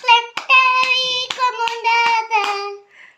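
Children clap their hands in a quick uneven series of about seven sharp claps while a voice sings or calls out over them.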